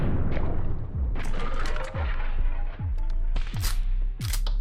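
Repeated booming shotgun shots from the video game Buckshot Roulette fire every second or so over a dense, noisy game soundscape, each blast loud and punchy.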